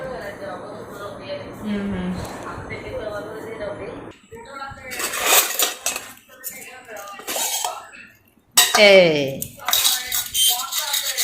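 Forks clinking against plates while people eat sliced mango, a run of sharp metallic taps and scrapes in bursts, with talking throughout.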